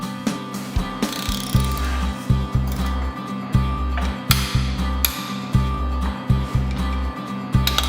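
Ratchet wrench tightening the central bolt of a bicycle Ultra Torque crankset (Campagnolo Super Record, Record or Chorus mechanical groupset) to torque, giving loud, close, repeated ratcheting strokes in a steady rhythm of short clicking pulls.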